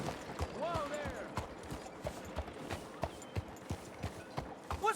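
A horse trots along and then stops in Red Dead Redemption, with steady clip-clop hoofbeats at a moderate distance, a faint snort or whinny near the start, and other game sounds around them.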